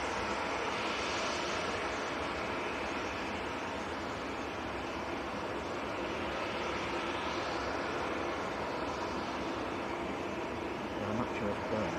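A Jet2 Boeing 737 departs Manchester Airport for Marrakesh, its engines a loud, steady, broadband roar that holds without a break from start to finish.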